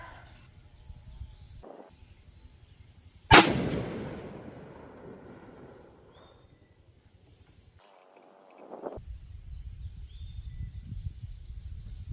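A single sharp rifle shot, fired off a bipod during a night-vision scope test, cracks loudly nearby and trails into a long fading rumble, with quiet outdoor background before and after.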